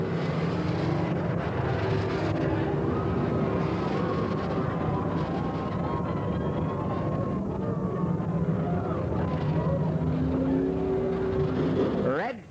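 Race cars roaring through a turn at Willamette Speedway in 1989, a continuous loud engine drone with shifting pitch as cars pass, and a commentator's voice running over the noise throughout.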